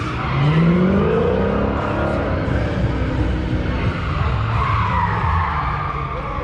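Dodge Charger thrill-ride car skidding, its tires squealing in a rising whine over a loud, continuous engine roar that holds steady throughout.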